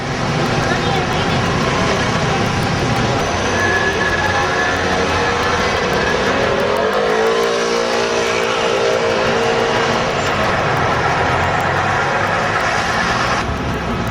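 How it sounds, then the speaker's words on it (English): A Ferrari sports car passes on a busy street in Rome, its engine tone swelling and then falling away midway through, over loud, constant traffic noise and background voices. "ese es un Ferrari"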